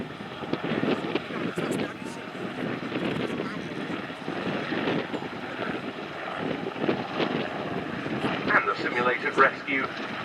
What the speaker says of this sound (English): the Belgian Air Force NH Industries NH-90